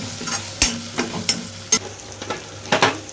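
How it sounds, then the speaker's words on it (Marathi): Crabs frying in a homemade red chili masala, a loud close sizzle broken by repeated scraping stirs and spoon knocks against the pan, roughly every half second. "आता खेकडे ते खेकडे फ्राय करणार"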